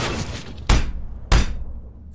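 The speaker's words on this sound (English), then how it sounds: "Incendiary!" Two sharp bursts from an incendiary grenade in a first-person shooter game, each a loud thudding crack with a shattering tail, about half a second apart, heard alone.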